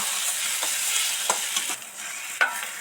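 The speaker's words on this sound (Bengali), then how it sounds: "একটু একটু দেবো আর একটু একটু ভালো করে নেড়ে চেড়ে মিশিয়ে দেবো" Egg bhuji gravy being stirred and mixed in a frying pan, a constant hissing sizzle with a few soft scraping strokes of the spoon.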